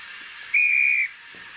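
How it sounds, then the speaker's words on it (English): A sharp, steady guard's whistle from the DCC sound decoder of an N gauge model of GWR Castle class 5029 Nunney Castle, one clear blast lasting about half a second over a faint background hiss. "That's the guard's whistle."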